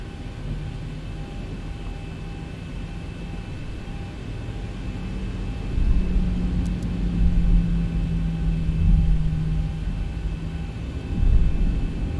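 A Boeing 737-800 takes off in the X-Plane 11 flight simulator. Its engines give a steady, broad rumbling roar that swells partway through, heavy and continuous with no talk.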